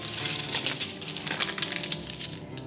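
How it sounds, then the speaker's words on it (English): Parchment paper is peeled away from set peanut butter fudge with nuts on top, close, crisp crinkling and crackling in quick irregular bursts, with no talk. "Take the paper off from all sides."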